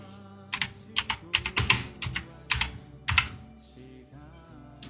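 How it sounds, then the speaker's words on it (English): Bursts of rapid clacking keystrokes on a computer keyboard while typing into a search bar, close and crisp, in several quick clusters with short pauses between them. "typing it into the search bar"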